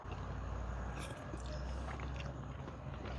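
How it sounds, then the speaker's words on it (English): Someone bites into a garlic knot with a crunchy crust and soft inside, served alongside blackened chicken; a single close crisp bite followed by steady chewing over a constant low background hum. "Time to get a bite of that garlic knot. It has a little bit of a crunchy exterior"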